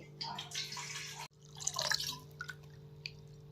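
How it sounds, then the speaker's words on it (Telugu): Toor dal lentils being washed by hand in water, with close dripping, splashing and sloshing in two short bursts, a brief pause between them, and a steady low hum underneath. "ఇలా ఒకటి రెండు సార్లు కడిగి పెట్టుకోవాలి"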